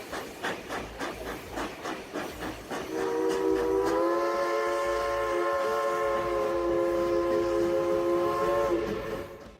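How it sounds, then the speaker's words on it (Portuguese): A train crosses a high curved bridge with rhythmic rolling clatter, then a long, loud, sustained steam whistle blows for several seconds over the running noise before fading out. "O trem tem que atravessar o mais devagar possível sobre essa ponte alta e curva"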